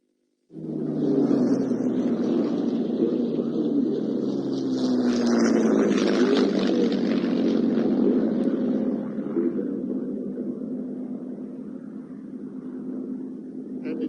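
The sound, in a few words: Mustang and Messerschmitt aircraft flying at airshow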